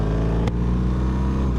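BMW GS motorcycle in sixth gear at full throttle in dynamic mode, a loud, close, sustained engine drone that rises steadily, with one brief interruption partway through.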